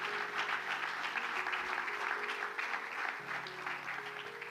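A church congregation applauds during a sermon, a dense, steady wash of clapping that holds for the whole stretch, with faint sustained tones beneath and no talk.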